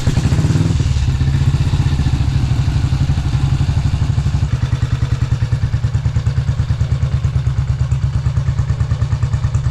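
A 1967 BSA motorcycle engine fires after a kickstart and settles into a loud, close, steady thumping idle with rapid regular exhaust beats throughout.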